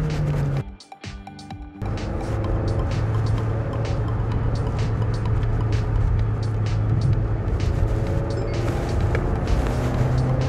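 A Mahindra XUV 700 engine builds under throttle from the cabin, a steady broadband rumble and drone that keeps rising after a brief dip near the start.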